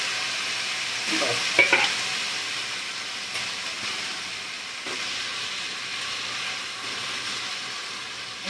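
Potatoes with turmeric and salt frying in a pan, a continuous soft sizzle with a cluster of spatula scrapes early on and occasional light stirring afterward.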